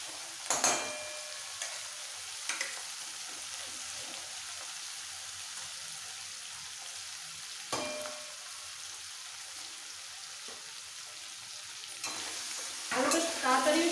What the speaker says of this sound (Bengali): মশলাটা কষাতে কষাতে দিয়ে দেবো ভেজে রাখা আলুগুলো